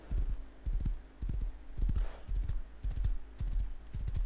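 Horse hooves clip-clop in the survival video game Rust, a steady run of paired thudding steps close by, repeating evenly for about four seconds with no talking.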